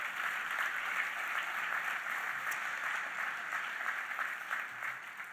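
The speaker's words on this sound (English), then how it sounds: "We should give that a round of applause" An audience at a Good Jobs, Green Jobs conference applauds, steady and fairly distant, with a continuous wash of clapping that holds evenly for several seconds.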